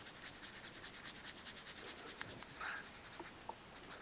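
Steel wool scrubbing a die-cast toy car body, a soft rapid rhythmic scratching close up, faint and continuous with a few small clicks.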